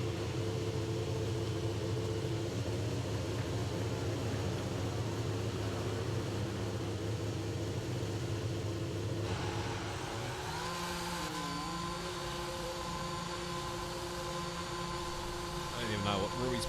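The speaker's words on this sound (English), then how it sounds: "we've got a car leaving the garage" F1 car in the F1 22 racing game pulling out of the garage, a steady engine drone that shifts and rises in pitch partway through, with a voice talking over it throughout.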